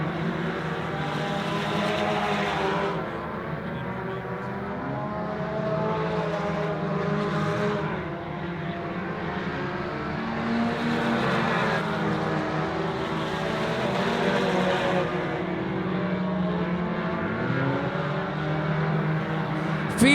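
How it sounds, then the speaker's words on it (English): Old four-cylinder tuner race cars lap a short speedway oval, engines droning steadily as the pack runs around the turns, a continuous layered roar with slight swells as cars pass. "as they race the old 4-cylinder tuner cars on down and around"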